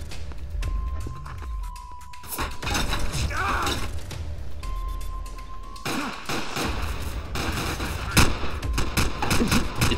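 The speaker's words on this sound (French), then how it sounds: "Il tire à travers, sérieux." Gunfire in a Garry's Mod Dark RP match: rapid bursts of shots and sharp mechanical clatter from within the game, moderately loud and irregular, with a brief tonal beep in between.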